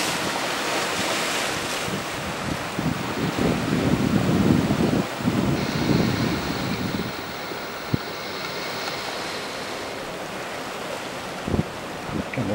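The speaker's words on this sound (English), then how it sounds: "Waves get a little bit bigger and you can't see them." Ocean surf rolls and breaks at a spit at sunrise, a steady wash of waves with heavy wind buffeting the microphone, distant boats about, and no talk.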